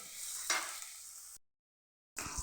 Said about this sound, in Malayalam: ഒന്ന് വാടിക്കാം.